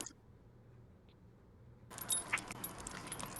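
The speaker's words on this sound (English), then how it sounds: "The janitor with his keys." A janitor's ring of keys jangles nearby, the metallic rattling starting suddenly after a quiet stretch and continuing steadily with shuffling movement.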